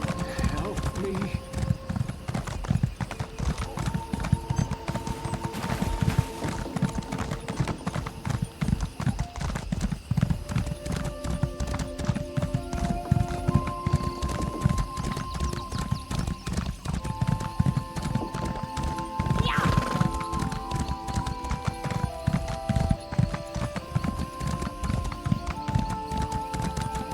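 Steady clip-clop of horse hooves while riding in The Elder Scrolls Online, a continuous brisk rhythm up close, with an occasional neigh, background game music and voices talking over it.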